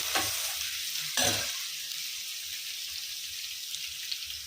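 Onions sizzling in a pan with a pinch of salt for tomato egg curry, a steady close frying hiss broken by two louder bursts of stirring, with no voices.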